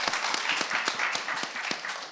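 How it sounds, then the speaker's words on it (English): Brief applause from the audience at a panel discussion on housing and transit, a short burst of scattered clapping with distinct individual claps. "let's give a round of applause for that."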